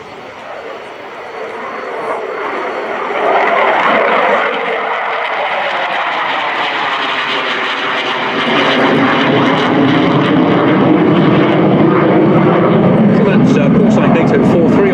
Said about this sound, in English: NATO 43 on break, which is the Romanian F-16, with the Italian Tornado, NATO 15 or NATO 15 on final now.